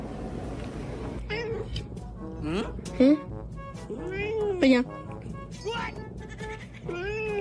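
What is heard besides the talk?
cat meowing for a treat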